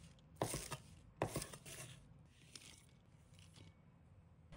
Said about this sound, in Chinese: 取几根小葱，切成小段